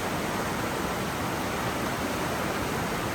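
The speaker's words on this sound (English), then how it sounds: "We're looking down on the mighty Clark Creek here in the Mount Hood Wilderness." Clark Creek in the Mount Hood Wilderness rushes steadily below a trail bridge, a constant broadband wash of flowing water that stays loud and even throughout with no voices.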